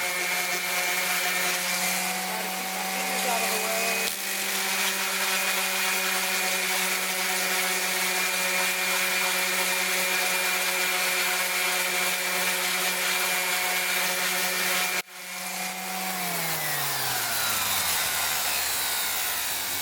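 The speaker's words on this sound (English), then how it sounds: "So I'm going to grab my sander." A power sander scuffs an aluminum patch on an Airstream trailer, giving a steady, loud, droning whine that briefly dips and winds down near the end before running on, with no talking.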